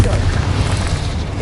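Confringo blast spell in the Hogwarts Legacy video game: a sustained, loud booming explosion with a dense low rumble filling the whole moment, no gaps, under possible faint game noise.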